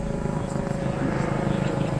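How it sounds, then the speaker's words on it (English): A helicopter passes overhead at an outdoor groundbreaking ceremony for a new fire station, its broad, steady rotor rumble filling the air without letup; speech-like activity may sit beneath the noise. "let that helicopter pass over"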